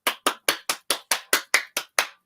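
Ten sharp, evenly spaced claps in a quick steady rhythm, each one close and distinct with a short decay, with no voices between them.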